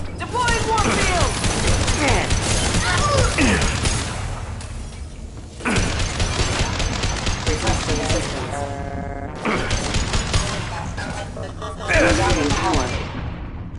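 Sustained gunfire and impacts in a Mass Effect 2 sci-fi firefight, loud bursts of shots and crashes filling most of the stretch with brief lulls, mixed with voices and game effects.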